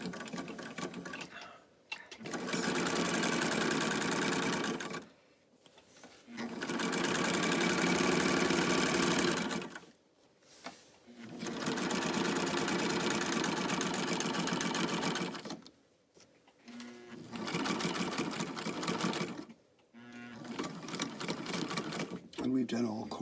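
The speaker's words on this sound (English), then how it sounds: "we're going to be sewing with 1/4 inch seam allowance" A sewing machine stitching quarter-inch seams runs in four long whirring bursts of several seconds each, separated by brief pauses, loud and close, with no talking.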